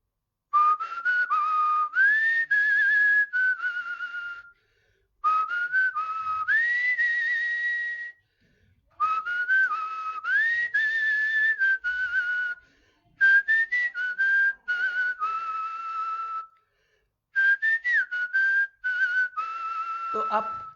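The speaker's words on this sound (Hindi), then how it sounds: "पहले तो एक सीटी आप बजा के सुना दीजिए" A man whistles a song tune in clear, bright melodic phrases, close and fairly loud, with several separate passages split by short pauses.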